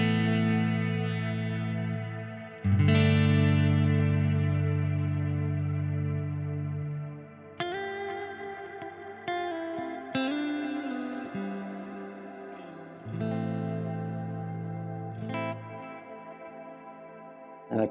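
An electric guitar played through a Nano Cortex amp-modelling preset rings out in sustained distorted chords with reverb tails, several strummed hits decaying between new ones, played alone with no talk.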